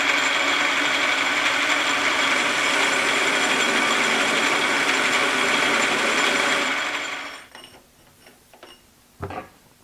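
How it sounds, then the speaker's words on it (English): A metal lathe cuts a chamfer with the compound set at 30 degrees, a loud steady mechanical whir of motor and gears that winds down near the end, followed by a few light clanks. "I'm just going to cut a chamfer right there."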